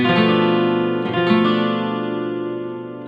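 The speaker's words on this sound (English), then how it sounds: "Whereas this is a half diminished, sounds like this." A half diminished chord rings out on a 12-string guitar, sustained and shimmering, with a second strum about a second in before it slowly decays. No voice is heard.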